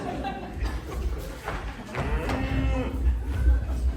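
During a staged cattle sacrifice, a cow lets out a low, drawn moo amid thumps and background rumble, fairly close, with some voices nearby.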